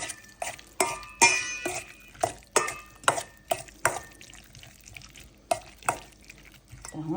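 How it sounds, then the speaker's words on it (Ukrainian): Diced beetroot dressed with fragrant vegetable oil for a vinegret salad is stirred in a bowl, a spoon scraping and knocking in a steady series of about a dozen close, distinct strokes. "Перемішую його, щоб він не закрашував овочі."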